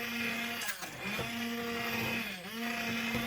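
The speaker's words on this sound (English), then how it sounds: "with a hand blender, blend the soup until very fine and thick" A hand blender whirs loudly and continuously, its pitch dipping briefly twice as it works through thick mushroom soup.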